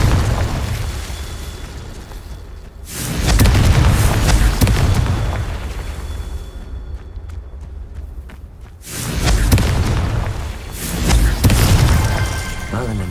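Confringo fire spell explosions in the video game Hogwarts Legacy, heavy booming bursts in two long waves, loud and close, with game clatter in between.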